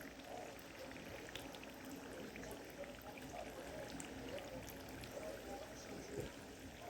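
Egg roll wrappers fry in hot oil with a steady, close crackling sizzle that holds at an even level throughout, with scattered small pops and no voices.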